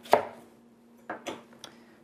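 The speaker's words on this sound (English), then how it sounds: "first we're just going to slice the watermelon in half" Knife cutting a rinsed watermelon in half: a sharp first cut followed by three softer crunching chops spaced unevenly across two seconds, close and fairly quiet, with no talk.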